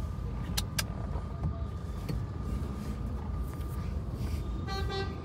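Cars and trucks sit in a jammed Punjab road, with a constant low rumble of engines and several short horn toots, some doubled, scattered across the scene and a quick burst of honks near the end.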